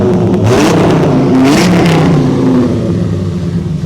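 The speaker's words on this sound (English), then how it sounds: "Rev the engine for me," A 1999 Dodge Viper GTS ACR Edition engine revs loudly close by, climbing in pitch through a couple of throttle blips before settling back toward a rumbling idle.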